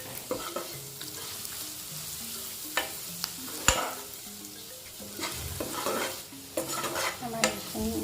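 Fish with turmeric, red chili and spices sizzles while being fried and stirred in a pan, with a quiet continuous crackle broken by spoon scrapes and taps.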